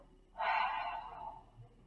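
Single strong exhale through the nose during a restorative yoga arm-crossing stretch, a soft airy whoosh lasting about a second, close and fairly quiet, fading at the end.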